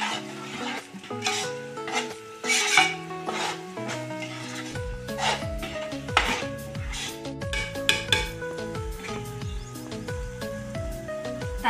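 A spoon stirs and scrapes through sorrel leaf fish curry in a pan, with repeated rasping strokes in an irregular rhythm, close and fairly loud, and no talking.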